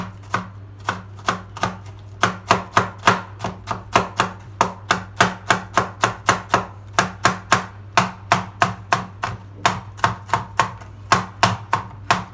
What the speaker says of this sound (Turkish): malzemelerimizi küçük küçük doğruyoruz.